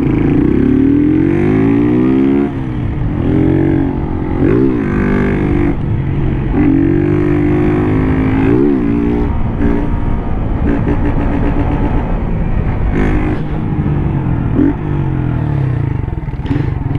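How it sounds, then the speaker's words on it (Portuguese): A truck passes close by on a road with a loud, rumbling engine that swells and shifts in pitch, and its clattering drone fills the whole stretch. "Vamos esperar o caminhão passar ali"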